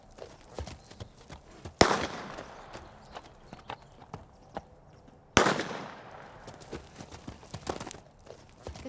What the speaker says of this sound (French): on va procéder à la détonation